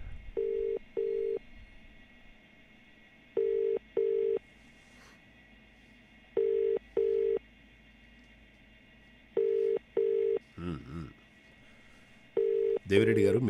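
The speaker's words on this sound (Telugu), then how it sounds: "ఇప్పుడు రింగ్ అవుతుంది." An outgoing phone call rings back through the line in paired electronic tones, repeating about five times at a steady pace, with brief faint noise between rings and a burst at the end.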